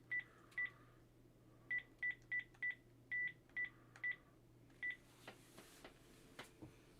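An old-school phone keypad beeps out a number, about a dozen short dialing tones in a quick uneven sequence, followed by faint clicks and a low steady hum.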